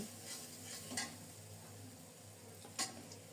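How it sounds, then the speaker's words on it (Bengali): Spices sizzle steadily in oil in a pan while cooking a rohu fish head curry with flattened rice, with soft stirring scrapes and a couple of sharper clinks standing out. "এদিকে মশলাটাও খুব সুন্দর মতো ভাজা হয়ে যাচ্ছে"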